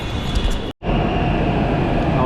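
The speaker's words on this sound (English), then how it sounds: "Our metro has arrived." Metro train arriving at a station platform in Hyderabad, a steady loud rumble and rail hiss filling the clip, with a brief dropout near the start and faint crowd voices underneath.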